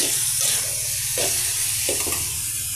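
Shredded cabbage, carrot, cauliflower and papaya sizzle steadily in an uncovered pan, a continuous close frying hiss with occasional stirring scrapes and no talk.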